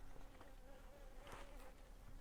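Soft, close buzzing of honeybees on a hive frame in a bee yard, a faint steady drone with small flickers of wings, no voices.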